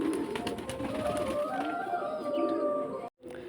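Young pigeons coo softly in low, repeated throaty calls, close by, with a brief rustle near the end.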